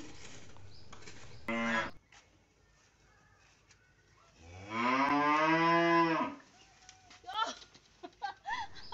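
Cattle on a farm moo loudly twice near the microphone, a short call followed by a long drawn-out one, as fresh-cut grass fodder is brought to them; softer bird-like calls and small sounds follow.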